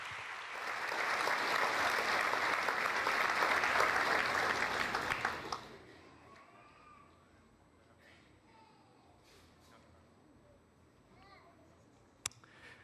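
A church congregation applauds loudly and steadily for several seconds, then the clapping breaks off into a quiet room with a few scattered claps and faint sounds.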